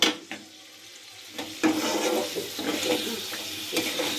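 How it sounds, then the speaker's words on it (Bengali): Boiled potato being stirred into fried spice masala in a pan, with scraping spoon strokes and a low sizzle; a quiet opening gives way to steadier stirring and clinks from about halfway. "আলুটা দিয়ে নাড়াচাড়া করব"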